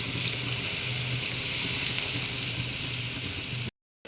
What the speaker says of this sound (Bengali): সবজি কষানো হয়ে গেছে, এখন ঝোলের জন্য পানি দিয়ে দিচ্ছি।